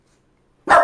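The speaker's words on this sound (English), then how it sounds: "Do you know why you're barking?" A dachshund gives one sharp, loud bark close by, right after near silence.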